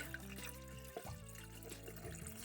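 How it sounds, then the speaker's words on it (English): Water trickles and splashes gently as it slowly fills a small 5-gallon Hygger Arc aquarium, a soft, quiet stream with light bubbling, heard close up without any talking. "Now I'm just slowly filling it up with water."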